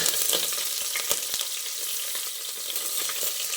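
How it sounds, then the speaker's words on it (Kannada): Onions frying in a pan for vegetable pulao, a loud continuous sizzle with a few soft knocks of stirring early on. "ಈಗ ಇದಕ್ಕೆ ಈರುಳ್ಳಿಯನ್ನು ಹಾಕ್ತಿದ್ದೇನೆ"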